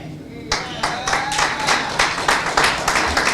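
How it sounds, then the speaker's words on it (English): Audience clapping breaks out at a community event, starting with a sudden burst and settling into steady, rhythmic applause from a nearby crowd. "Keep that same applause coming"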